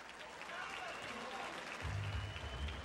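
Boxing arena crowd cheering and applauding as round one closes after a late flurry of combinations, a steady roar that swells louder near the end beneath a commentator's voice.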